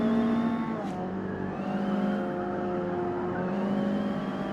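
A 1989 Toyota MR2 racing in Forza Motorsport, its engine droning steadily at high revs with slight pitch shifts as it holds speed, loud and continuous.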